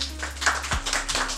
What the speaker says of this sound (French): que je demande d'applaudir très très fort s'il vous plaît